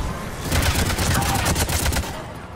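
Gunfire in the video game Mass Effect 3, a loud, rapid burst of automatic shots crackling close by for about two seconds amid combat noise.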